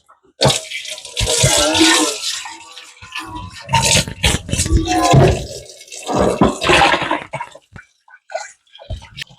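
Water splashes and gushes in bursts into a vessel of cut pork being washed, with wet sloshing and handling noises close by.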